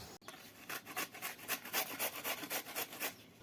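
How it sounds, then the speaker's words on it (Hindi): Fresh red carrots are grated for gajar halwa, making a quick run of about a dozen rhythmic rasping strokes, close and crisp, with no talking. "गाजर को मैं ग्राइंड कर लेता हूँ"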